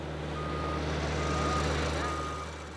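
An excavator reverses through a cabbage field with a steady, repeating backup beeper, sounding over a continuous low diesel engine rumble at moderate distance.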